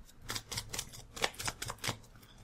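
A Magic: The Gathering card deck is riffled and shuffled in quick, close bursts during a Modern match: a run of light crisp card flutters and taps, no speech.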